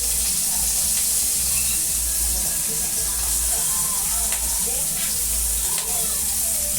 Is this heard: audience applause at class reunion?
no